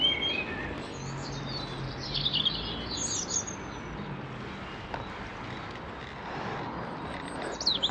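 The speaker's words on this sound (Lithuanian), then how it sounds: "Paukščiukai čiulba." Small birds chirp and tweet in high, scattered calls over a steady outdoor hum on a tree-lined avenue with blossoming trees in Plzeň, Czech Republic, moderately near and soft.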